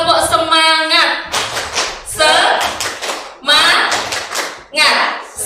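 A group claps in a rhythmic chant pattern, sharp bursts of hand claps alternating with a chanting voice, loud and close, in a school-style gathering.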